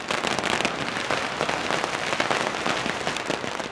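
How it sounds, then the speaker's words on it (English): Fireworks at a Chinese New Year celebration display: dense, continuous crackling and popping bursts with no break, fairly loud and steady throughout, with no voices. "The celebrations ended with a firework display."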